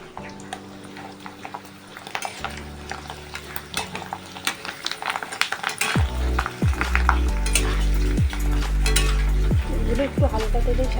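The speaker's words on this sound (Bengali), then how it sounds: "এখন আমি পাঁপড়গুলো ভেজে নেবো।" Papad frying in lightly heated shallow oil at home for breakfast: loud bursts of sizzling as each piece hits the pan, with clinks and scrapes of utensils stirring and turning them, close up and growing busier.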